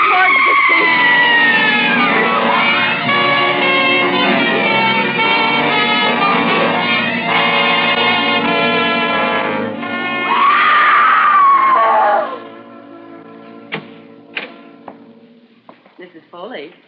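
A woman screams loudly and continuously as a dramatic sound effect in a 1945 old-time radio suspense drama, the piercing cry sustained for several seconds before cutting off into a few sharp knocks and thuds.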